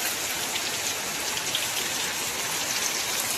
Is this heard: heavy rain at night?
yes